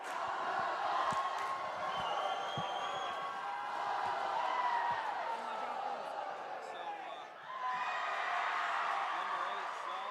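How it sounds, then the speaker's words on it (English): Loud crowd roar fills a high school volleyball gym, with cheering, shouts and whoops layered in a sustained din that dips briefly before surging again; voices are audible within the noise. "If you can hear that crowd noise, that is just some of the noise that the Rebels are dealing with."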